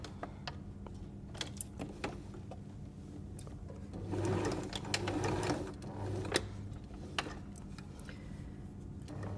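A sewing machine stitches the outer seam of a fabric cutlery pouch, a quiet steady hum with a slightly louder run in the middle and scattered clicks of fabric handling.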